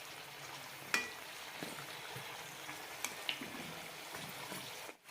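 Quiet, steady sizzle and crackle of somas snacks frying in oil over low to medium flame, with a few soft utensil taps and clicks.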